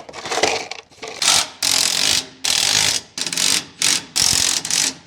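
A ratchet wrench tightens bolts on a vehicle in about six quick bursts of loud, close clicking, separated by short pauses.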